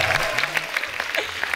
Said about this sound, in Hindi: दोनों के लिए जोरदार तालियां।